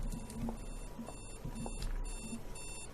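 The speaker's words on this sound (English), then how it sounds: "There's like an alarm going on." An alarm sounds in the video game A Wolf In Autumn, a bright electronic beeping in quick repeated bursts over a low steady hum, fairly faint.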